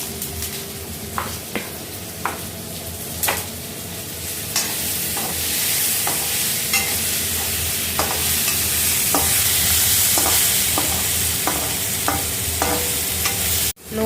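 Vegetables roast in a pan after salt goes in, with a steady close sizzle and repeated sharp scrapes and clinks of a spoon stirring against the pan, ending in a sudden knock.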